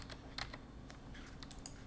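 Keystrokes on a keyboard while entering a name to gift a game on a Steam Deck, a quiet run of scattered taps and clicks over steady low background hum.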